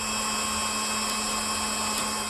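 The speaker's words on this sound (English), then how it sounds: "There wasn't enough metal on the top lip of the frame, so I chose to drill into the side." A power drill bores into the steel side of a box truck frame, a steady continuous whine that stays loud and close without pause.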